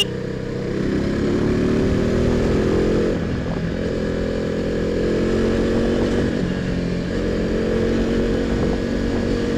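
A KTM RC 390 motorcycle rides through city traffic, its single-cylinder engine droning loud and steady with slight shifts in pitch and constant road and wind noise.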